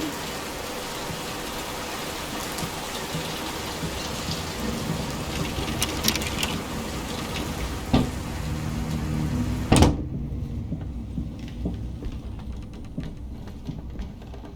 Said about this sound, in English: Will this storm ever run out of rain?